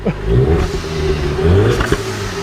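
A car engine with a modified, harsh-sounding setup revs loudly and close, a rough droning roar that swells and dips over a couple of seconds with no talking.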